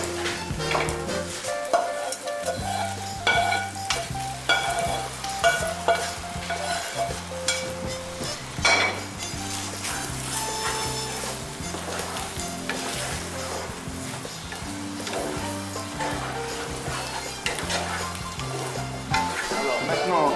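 Porcini mushroom risotto sizzles continuously in a pan while being stirred, with steady frying crackle and soft repeated scraping, no voices.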